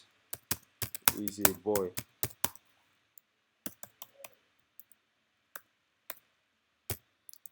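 Sparse clicks of a computer keyboard as HTML code is typed, crisp close keystrokes in uneven bursts with long quiet gaps, a brief stretch of speech near the start.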